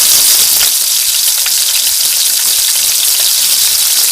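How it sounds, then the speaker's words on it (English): Onions frying in a hot pan, a loud, steady sizzle with a constant hiss and no talking. "let's get down to frying our onions."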